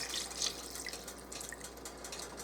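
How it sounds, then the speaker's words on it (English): Water poured into a pot of chicken vegetable soup, making faint splashing and trickling sounds close by in a quiet kitchen. "I'm going to add more water to this."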